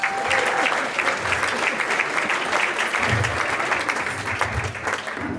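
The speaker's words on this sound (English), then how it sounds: "Round of applause for that" A round of applause fills a high school award ceremony, steady dense clapping from a crowd lasting throughout, with a few low murmurs of voices beneath it.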